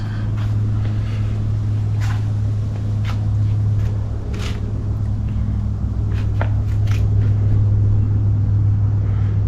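A KTM 390 motorcycle engine idles in a backyard, giving a steady, loud low drone that holds throughout with faint clicks and rustles on top.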